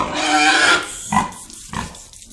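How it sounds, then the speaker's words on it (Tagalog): A Landrace pig squeals loudly and close by, first in one long shrill cry and then in shorter squeals. "So, tili na siya ng tili."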